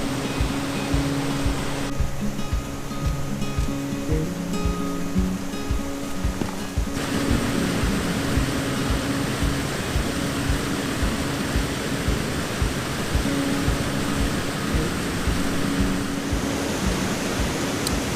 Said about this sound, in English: So I'm down by the river right now. You can probably hear it pretty loud.